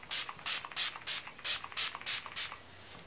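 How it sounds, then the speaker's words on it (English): Urban Decay All Nighter setting spray, a small sample-size bottle, spritzed in a steady run of about eight short, airy hissing pumps, close and evenly spaced, with no talk. "I'm just going to use my little sample sized all nighter spray by Urban Decay."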